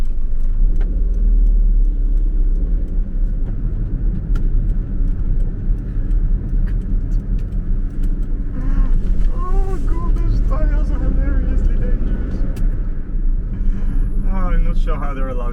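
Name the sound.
Daihatsu Cuore L701 car driving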